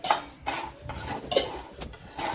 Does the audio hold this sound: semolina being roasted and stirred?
yes